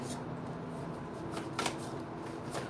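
Tarot cards shuffled and picked by hand, giving a steady, close, soft papery riffle with a few sharper flicks and no voices.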